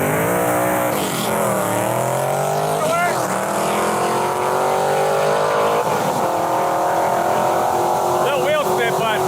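A drag race car revving hard and bouncing off the rev limiter, loud and close, the engine note rising and cutting repeatedly in a sustained roar with stuttering limiter bursts near the end.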